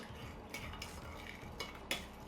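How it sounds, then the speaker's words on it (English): A spoon stirs sugar into melted butter in a bowl, giving a few soft, separate scraping strokes, quiet and close, with no talk. "So I'm gonna put my sugar in to the melted butter. Just give that a little stir."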